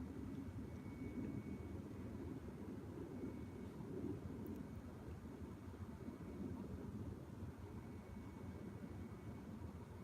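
A passing airplane drones as a steady low rumble across a cemetery at night, distant and even in level, with no voices over it.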